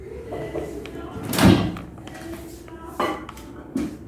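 A bowl of tea masala set into a microwave: a sharp clunk of a dish against the glass tray, then softer knocks and a door-like bump, close and clear in a quiet kitchen.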